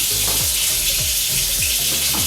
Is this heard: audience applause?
no